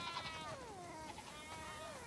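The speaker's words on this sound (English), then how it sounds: "We definitely have way too many sheep." A herd of sheep in The Last of Us Part II produces a drawn-out bleat that slides downward in pitch, followed by a second quieter call over soft game ambience.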